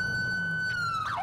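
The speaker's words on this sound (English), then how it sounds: "When I try to change my sirens, you'll see the phone pop up." A police car siren in GTA IV with the LCPDFR mod holds a loud steady wailing tone, then near the end it switches to a rapid warbling sweep, close and alone without speech.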